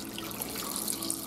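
Beef broth mixed with tomato paste pours steadily into a crockpot for beef stew, a continuous close splashing stream of liquid with no talk.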